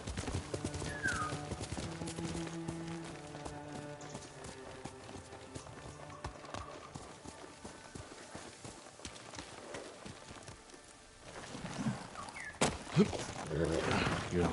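Horse hooves clip-clop steadily in the Ghost of Tsushima video game, set among ambient outdoor game sounds, with a brief whinny and rising activity near the end.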